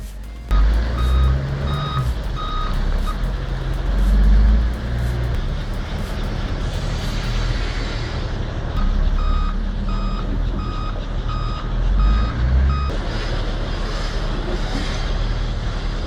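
A Volvo L180 log loader at a timber mill sounds steady reversing beeps in regular pulses over a loud, rumbling diesel engine, the beeping pausing and then resuming close by.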